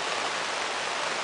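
Steady, dense hiss of rain falling, even and unbroken throughout, with no voices.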